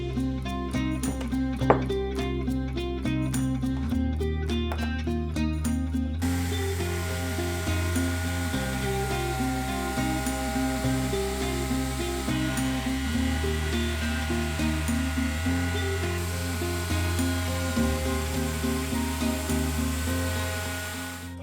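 Router cutting a stopped groove in wooden leg stock, a loud sustained high-pitched whine that holds steady for about twenty seconds, with a brief sharp click early on and no talking.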